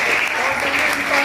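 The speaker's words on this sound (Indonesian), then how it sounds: "beri tepuk tangan" Classroom applause from students during a lesson, a short, dense burst of clapping, with a voice faintly present beneath it.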